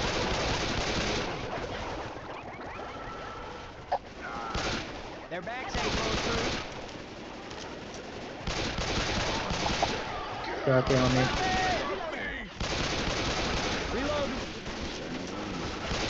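Rapid automatic gunfire and scattered shots from Left 4 Dead 2 combat, heard as bursts running almost continuously through the passage, with players talking over the shooting.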